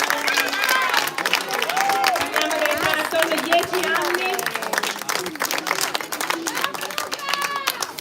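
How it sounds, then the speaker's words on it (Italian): A crowd at a youth boxing sparring event applauds and cheers for young boxers after the final round, with an announcer talking loudly over the steady clapping and chatter. "Un grande applauso a questi piccoli pugili"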